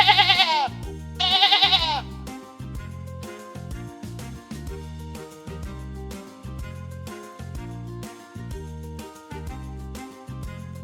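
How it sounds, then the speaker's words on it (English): Sheep on a farm bleat twice in quick succession, loud and close, followed by a steady rhythmic backing tune with no further animal calls. "They make the baba sound."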